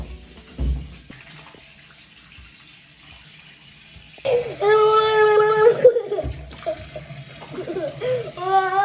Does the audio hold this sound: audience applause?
no